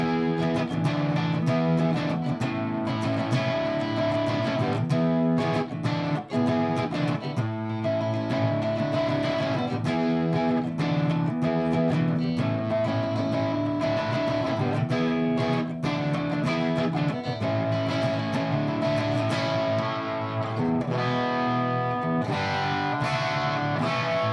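Electric guitar played through the clean channel of a Metropoulos DVL1 amp, a continuous run of strummed chords and picked notes with sustained ringing tones, loud and alone with no talking.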